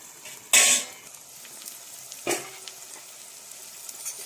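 Jackfruit curry with ground spices being stirred in a pan, two brief scraping sizzles of the spoon standing out against a low steady background hiss.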